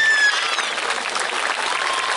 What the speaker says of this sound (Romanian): hai să vă aud cu aplauze pentru toți